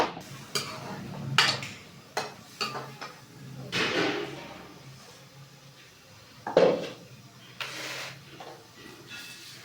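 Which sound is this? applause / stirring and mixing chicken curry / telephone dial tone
stirring and mixing chicken curry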